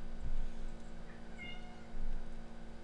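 A hungry house cat lets out one short, fairly soft meow over a steady low electrical hum, with a few faint thumps around it.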